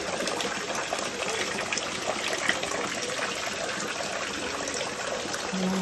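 Water pours steadily from a hand-washing spout at Haruna Shrine in Japan, a loud, continuous close splashing stream filling the whole stretch with no talk.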